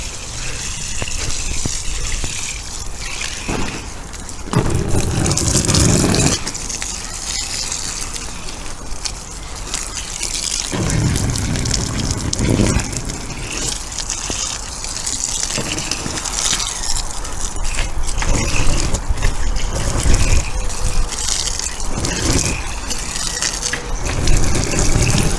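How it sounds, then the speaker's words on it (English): Water is sprayed over a bivvy tent for a waterproofing test, a loud, close hiss and splatter running in bursts with brief pauses, punctuated by crackling fabric and rustling. "let's give it a good soaking"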